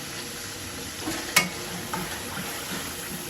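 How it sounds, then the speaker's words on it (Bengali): Garlic fries in a pan as a steady sizzle, with one sharp clink of a utensil in the middle and a few quieter stirring touches. "এই যে রসুনটা দিয়ে দিলাম রসুনটা কষানো হোক"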